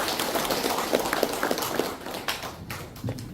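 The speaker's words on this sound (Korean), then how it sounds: "박수로 모시겠습니다." Audience applause welcoming a speaker at a Korean veterans' policy reform rally, a steady, dense patter of many hands clapping at moderate loudness that thins out toward the end.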